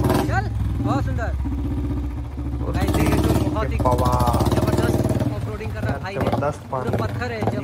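A Royal Enfield Bullet motorcycle thumps and revs loudly while crossing a river off-road. Its pulsing single-cylinder beat rises and falls close by, and excited voices talk over it.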